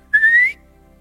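A single clear rising whistle, a person imitating the one-note call a mother used to summon her child, loud and close, lasting under half a second and alone.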